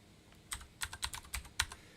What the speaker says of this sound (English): Tabbing doesn't do anything here because I disabled navigation by keyboard.